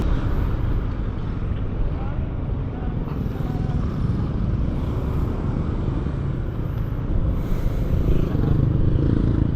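A Honda Giorno scooter on a long road ride, its engine a steady broadband drone mixed with wind and passing traffic, continuous and close throughout, with voices talking over it.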